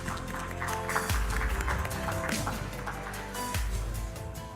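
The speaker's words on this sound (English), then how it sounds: "A round of applause for all of the nominees," Applause for award nominees at an annual general meeting, a moderate round of clapping with music playing underneath throughout.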